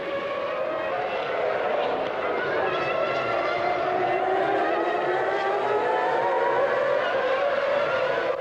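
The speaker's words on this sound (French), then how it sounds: "La Ferrari de Schumacher mène les premiers tours de course, mais la Rose Yamaha de Hill ne se laisse pas distancer" Formula 1 cars race in 1997, Schumacher's Ferrari and Hill's Arrows-Yamaha: a steady high engine wail whose pitch slowly rises and falls as the cars pass, heard at a distance with a voice faintly underneath.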